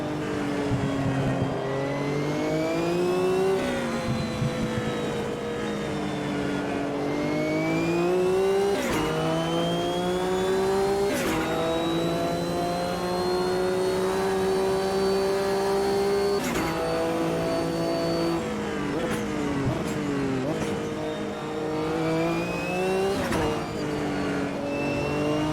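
Race cars in the AMS 2 sim racing game scream through their gears, with rising and falling engine whines from GT and other cars layered continuously, some distant across the track.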